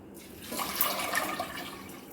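Four cups of water pour into a pressure cooker holding soaked, washed toor dal, giving a soft steady splashing gush that swells and then eases over about two seconds, faint and close.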